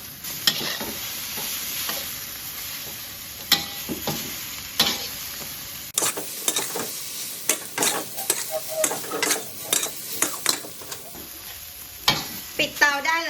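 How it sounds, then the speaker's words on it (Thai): Bitter gourd and egg stir-fried in a pan for a Thai dish, a spatula scraping and tossing in repeated close strokes over a light sizzle, with brief gaps between bursts. "แล้วก็ผัดให้เขาแห้งค่ะ"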